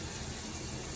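Water splashes steadily while a face is washed with circular motions, a dense, close, continuous rush like running tap water, alone without voices.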